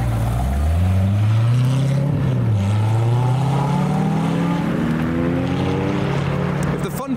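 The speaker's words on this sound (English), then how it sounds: "this is a car I saw yesterday and I wanted to hear. I believe it's a cammed Z06." A cammed Corvette Z06 V8 drives past on the road outside the Nürburgring, its loud, lumpy engine note rising steadily in pitch as it accelerates, holding strong and continuous for several seconds.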